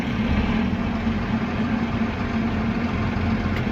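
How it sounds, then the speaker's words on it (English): Gleaner combine harvester working through an Iowa soybean field, its engine giving a steady, low, continuous rumble at close range with an even, unchanging drone and no talking. "sure do enjoy seeing this gleaner out working"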